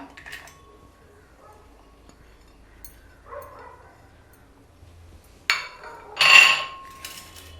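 Ingredients drop into a small cooking pot with a few scattered light clinks and taps, then a louder metallic clatter and rattle near the end, close by in an otherwise quiet room.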